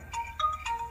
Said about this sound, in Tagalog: diyan mo cellphone mo, tagri-ring